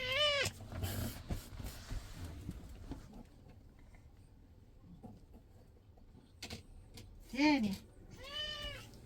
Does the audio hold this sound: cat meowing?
yes